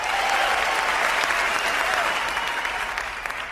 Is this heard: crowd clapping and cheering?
yes